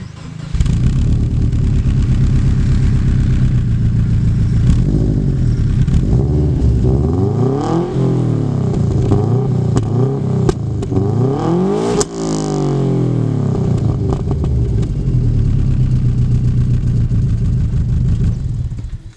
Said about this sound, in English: This is the engine, of course, you can kind of tell that.